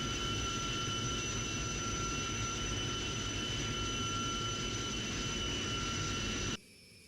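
Several jet aircraft flying in formation in the Strike Fighters 2 flight simulator: a steady, loud engine roar with a constant whine, holding even for several seconds before cutting off abruptly near the end.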